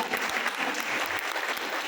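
An audience claps warmly for senior guests at a gathering, a brief burst of dense, steady applause filling the room.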